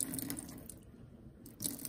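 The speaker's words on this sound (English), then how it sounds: "you're supposed to add warm water, and, ooh, I flooded it" Warm water rushes quickly from a tap into a container until it overfills, a soft steady pour that briefly drops away and then resumes.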